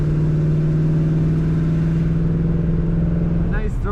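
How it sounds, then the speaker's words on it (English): A 1971 Chevrolet Chevelle Malibu's engine holds a steady, deep throaty rumble while driving, loud and close, with a brief shift in tone near the end. "Nice throaty rumble."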